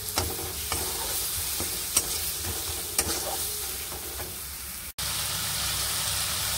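A spice masala with Maggi seasoning for a green jackfruit kofta curry fries in oil while a spoon keeps stirring, a close, continuous sizzle punctuated by scraping knocks, briefly cut off near the end before resuming.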